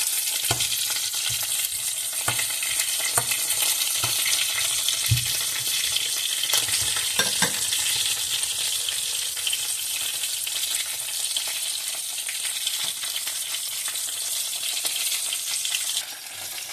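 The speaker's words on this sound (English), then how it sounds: "I start frying with the medium heat." Chicken coated in self-rising flour fries in oil over medium heat for Thai-style fried chicken, a steady dense sizzle running throughout with occasional soft stirring clicks and pops, no voices.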